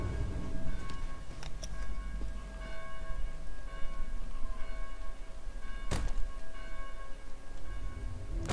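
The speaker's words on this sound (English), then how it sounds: "Please help us silence these bells." Church bells ringing from a city belfry in the zombie game Dead Island: Definitive Edition, a steady metallic toll with one sharp, loud strike near the end over a constant low game rumble.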